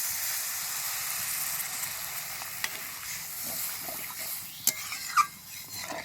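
Water hits hot fried masala in a pan while making Bengali katla fish kalia, giving a steady loud sizzle and hiss with a few sharp clicks and bubbling pops near the end.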